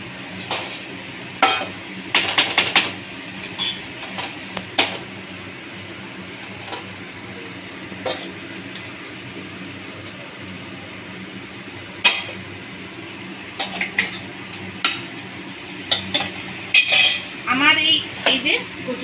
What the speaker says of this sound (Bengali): এবার আমি এটাকে নাড়িয়ে নেব